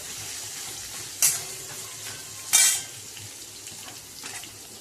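Garlic stir-fries over low heat under a soft, steady sizzle, with two sharp spoon scrapes against the pan and a fainter third near the end, close by with no voices.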